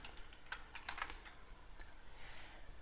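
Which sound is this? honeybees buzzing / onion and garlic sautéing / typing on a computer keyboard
typing on a computer keyboard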